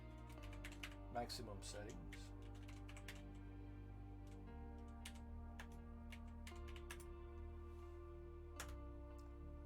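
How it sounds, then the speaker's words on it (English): Keys clatter on a computer keyboard in rapid irregular bursts while someone talks over them, the clicks near and fairly quiet against a steady low hum. "Let me go ahead and let me type it in."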